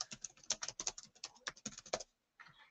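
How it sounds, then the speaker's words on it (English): Someone types on a computer keyboard in a quick, uneven patter of close key clicks, then pauses briefly before a few more keystrokes. "I'm going to type in,"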